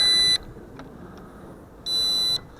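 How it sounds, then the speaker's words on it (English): Two sharp, high electronic beeps from a JJRC H21 hexacopter drone entering headless mode sound about a second and a half apart, each lasting under half a second, with faint chirps and quiet between them. "it has that annoying beep too"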